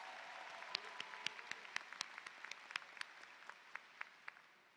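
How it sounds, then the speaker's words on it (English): Audience applause at the Texas Southern University Spring 2022 commencement, a faint, distant wash of steady clapping with a few sharper individual claps standing out, continuing evenly and fading slightly at the end. "Give her an applause."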